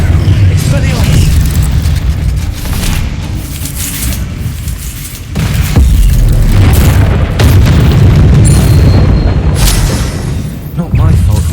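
Bombarda explosion spells in the Hogwarts Legacy video game, heavy booming blasts over a dense, loud combat din, with bursts recurring through the clip and a voice speaking over it.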